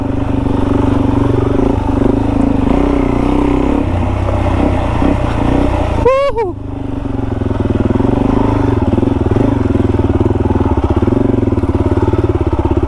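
A dirt bike engine drones loudly and continuously on a muddy off-road trail, with shifting revs, a sudden rattling clatter midway, then a steady buzzing run close by.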